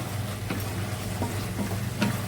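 Red wheat roti fries in ghee in a pan, giving a soft, steady sizzle with a few light scrapes and taps of a utensil at intervals.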